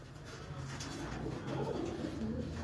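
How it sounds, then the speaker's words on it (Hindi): French pigeons cooing, soft repeated low coos from several birds close by, heard over faint background noise. "ये जी ये फ्रांसी कबूतर है"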